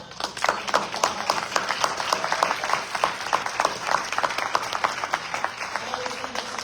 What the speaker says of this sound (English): just please stand up and we'll give them a round of applause